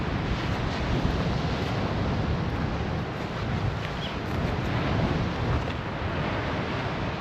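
Sea waves and wind at a coastal campsite in Spain, a continuous broad roar of surf mixed with gusty wind buffeting the microphone, steady and fairly loud with no voices.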